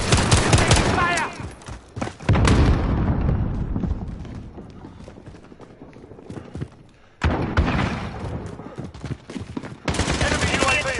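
Gunfire in a Call of Duty Modern Warfare team deathmatch, dense bursts of automatic fire and heavy thumps, loud and continuous with a brief quieter stretch in the middle, without clear speech.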